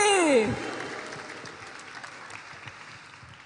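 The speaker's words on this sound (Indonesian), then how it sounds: "Kurang kencang tepuk tangannya, mana tepuk tangannya sekali lagi." Applause from a crowd at a political candidate declaration event in Makassar follows a brief rising tone at the start, then continues as steady clapping that slowly fades toward the end.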